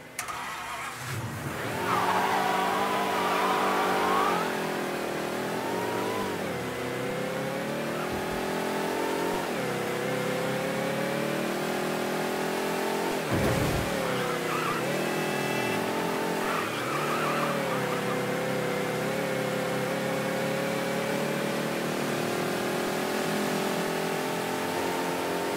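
In the video game Mafia III, a car engine idles and revs repeatedly while warming up, a loud steady roar with rising and falling pitch sweeps throughout, heard alone.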